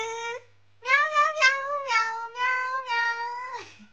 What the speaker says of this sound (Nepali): टेडु म्याउ म्याउ म्याउ म्याउ म्याउ